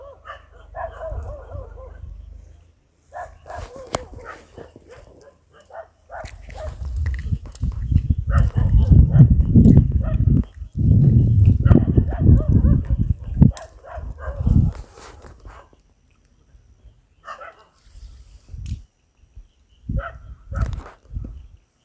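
A dog barks at a rural farmer's home, the barks mixed with footsteps and bursts of conversation, sometimes loud and close, sometimes under the voices.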